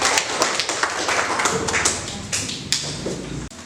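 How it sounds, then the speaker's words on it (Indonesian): Students in an Indonesian classroom applaud everyone after group presentations: steady, close, dense clapping with taps and thumps running the whole time, with voices talking over it. "silakan tepuk tangan untuk kita semua"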